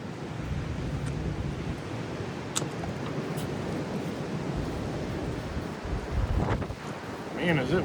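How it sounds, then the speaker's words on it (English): Steady wind buffets the microphone outdoors with a broad, rushing roar that swells near the end, loud and continuous with no voices. "Man, is it windy."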